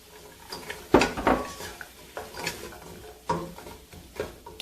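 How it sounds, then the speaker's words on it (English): Chopped carrots tumble into a pot of vegetable and bean soup with a few clattering knocks and rattles against the metal, followed by lighter scattered taps, close and fairly loud, with no voices. "Now let me pour in the carrots."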